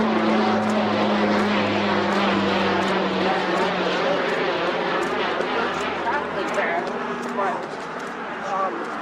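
A WestJet airplane passes overhead, a loud, sustained roar of aircraft engines that gradually fades, with a person talking throughout.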